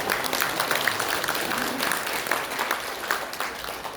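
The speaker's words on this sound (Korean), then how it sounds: "박수로." An audience at a public history lecture applauds to welcome a guest, the chairman of a memorial association; steady, moderately loud clapping continues without pause across the few seconds.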